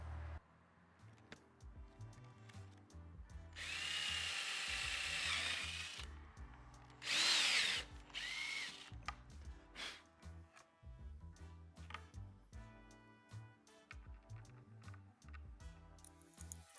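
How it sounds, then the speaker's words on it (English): A power drill bores a pair of holes while an electric car charger and smart switch are being wired at home: two loud, close, whining bursts of about two and one seconds, with clicks and handling knocks between them. "drill a pair of holes for those."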